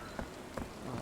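Steady rain falls across a city street in the game Sherlock Holmes: The Awakened, a dense close patter with a few brief louder splashes and no voices.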